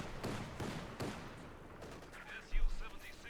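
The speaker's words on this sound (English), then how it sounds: "Slowly gutting them down there with the DP light machine guns." Light machine-gun bursts from DP guns in the Company of Heroes 2 strategy game, several sharp rattling volleys over the first second then scattered shots and a low thump, mixed with game ambience and commentary.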